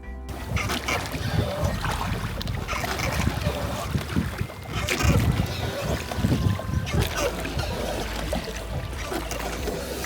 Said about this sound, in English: We're waiting for our rowboat back across the river.